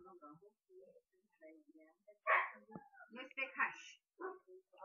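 A dog barks a few times indoors, the short yips and woofs mixed in with a person talking nearby at moderate volume.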